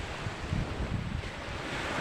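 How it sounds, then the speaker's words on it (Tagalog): Sea waves wash onto the shore of a beach at Sitio Ricodo under overcast skies, a steady, near roar of surf with soft swells, mixed with wind buffeting the microphone. "nandito po tayo sa baybaying dagat ng Sitio Ricodo"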